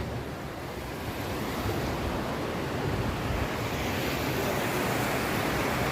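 Sea waves along the coast on a trip from Mumbai to Ratnagiri wash in as a constant, loud roar of surf, with wind noise over it and no voices.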